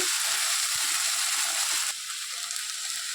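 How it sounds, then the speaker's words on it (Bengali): Ground spice paste of garlic, black pepper and cumin hits hot oil in a pan for a silver carp fish curry, giving a loud, steady broadband sizzle that drops slightly in intensity partway through. "সব কিছু একসঙ্গে দিয়ে আমি এই যে বেটে নিয়েছি মশলা এই মশলাটা এবার দিয়ে দিচ্ছি"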